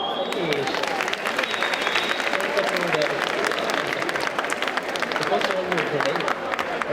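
Sustained applause from an audience at a hypnosis show, dense clapping with scattered cheers and voices, loud and continuous from start to finish.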